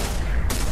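Rapid gunfire from a revolver in a Roblox video game, a dense, loud burst of shots filling the whole short clip.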